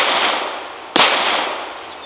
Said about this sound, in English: Gotta wait for the gunfire to stop.